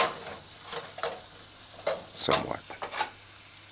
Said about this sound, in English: You just want the ginger and the shredded garlic to saute